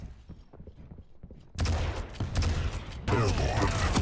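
Gunshots in a competitive video game duel, a quiet stretch giving way to a sudden loud burst of rapid shots, then a brief lull and another volley close by.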